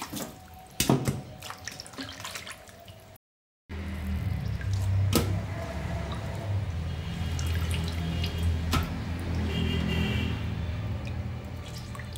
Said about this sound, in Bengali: দেখো মাছগুলো ভালো করে নুন দিয়ে কষলে ধুয়ে নিচ্ছি।